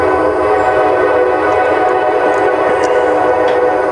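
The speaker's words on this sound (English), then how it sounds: "I think this is going to be the new intro that I use every time, is just train horns." A train rumbles past at close range, a loud continuous roar of rail cars with several short horn blasts sounding over it, no talking.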